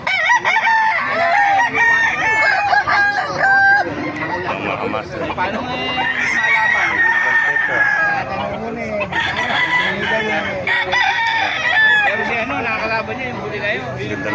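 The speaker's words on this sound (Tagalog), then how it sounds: "mga manok dito" Roosters crow repeatedly over a dense backdrop of chickens clucking at a market in Baliuag, Philippines, with people chattering nearby throughout.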